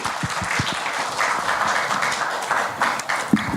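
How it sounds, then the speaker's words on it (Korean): Audience applause breaking out at a public architecture seminar in a hall, a dense wash of clapping from many people with scattered sharper claps, steady and fairly loud throughout. "여러분 박수 부탁드립니다."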